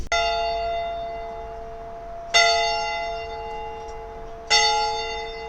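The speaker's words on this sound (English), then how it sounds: "this church bell, I haven't rang it since I was about 15 years old" Church bell at Smith Memorial Presbyterian Church, struck three times at slow, irregular intervals, each a loud, bright clang that hangs in a long, ringing decay, with no voices.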